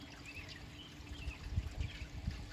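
Water trickles and splashes in an uneven, dribbling flow from a leaking pool pump hose outdoors, fairly soft, with a few faint chirps in the background.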